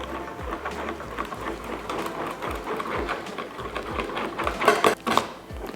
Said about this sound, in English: We have all our ingredients, and then we are going to whisk this.